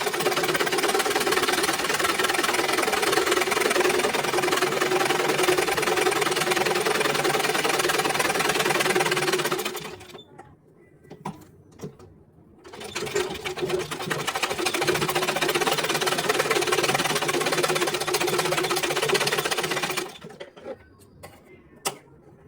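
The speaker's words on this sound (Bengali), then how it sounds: "এখন উপর থেকে আরও একটা সেলাই করে দিব" A sewing machine runs steadily while stitching a blouse, a loud, close, continuous mechanical whir for about ten seconds, stopping briefly with a few clicks, then running again for another long stretch before halting.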